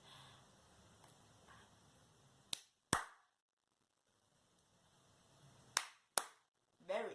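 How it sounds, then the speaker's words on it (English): A few sharp, isolated hand claps ring out against quiet room tone, spaced unevenly with short silences between them. "Clapping, clapping, clapping. Now it's your turn."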